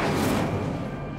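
An Incendio fire spell is cast in the video game Hogwarts Legacy, a single whooshing, booming burst that starts loud and decays over about a second.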